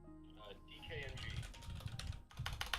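Rapid typing on a computer keyboard while entering stock tickers into a trading tool, a quick run of clicking keystrokes heard faintly under someone talking.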